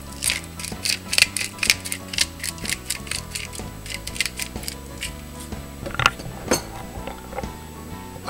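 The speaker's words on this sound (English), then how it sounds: "I'm just going to grind some pepper, fresh cracked" A pepper grinder grinds fresh cracked pepper in a kitchen: a steady run of close, crisp ratcheting clicks in a quick rhythm, with soft music underneath.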